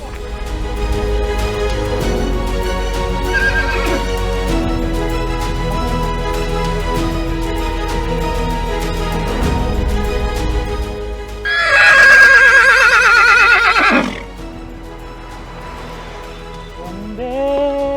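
A horse on a ride toward Chamundi Hill in Mysuru gives a loud, close, trembling whinny midway, with a shorter neigh near the end, set against steady background noise and faint hoof clip-clops.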